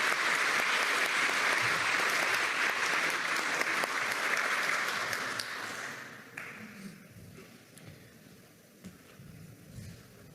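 A crowd applauds at a medal ceremony in Peru's Government Palace for a retired National Police captain. The clapping is loud and sustained, then fades over the last seconds into quieter room noise and faint voices.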